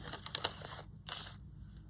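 Small bells on a handmade journal jingle close by in two bright, shimmering bursts, separated by a brief silence.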